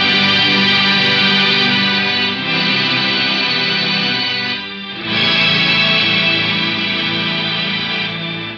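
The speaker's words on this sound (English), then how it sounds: "Now, if I turn the sustain all the way down, this is an extreme way, but listen to how the notes fade in and out." An Electro-Harmonix Mel 9 tape replay effect with sustain turned fully down turns guitar notes into a dense, loud orchestral wash whose chords swell in and out, dipping briefly in the middle before rising again.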